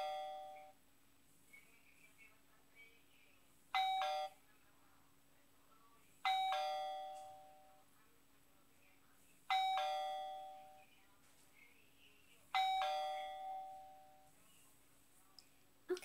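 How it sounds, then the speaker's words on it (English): A doorbell rings four times, each a bright chime that decays slowly, spaced a few seconds apart against a quiet hum. "That's another doorbell."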